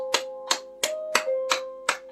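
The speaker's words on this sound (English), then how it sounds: "Can we get a round of applause for our local band tonight?" About six sharp, evenly spaced claps in a steady rhythm ring out over sustained keyboard tones at a community night with a local band playing; no one speaks.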